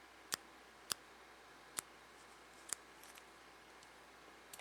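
Sharp plastic clicks from the adjustable airflow ring of a Uwell Crown vape tank being turned. About five crisp, close, distinct clicks come at irregular intervals over a quiet background, with a few fainter ticks near the end.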